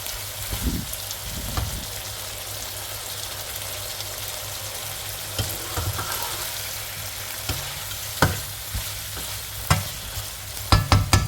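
Green capsicum stir-fried with pork ribs in a hot pan, a steady sizzle under repeated scraping stirs and clacks of the spatula, growing busier toward the end.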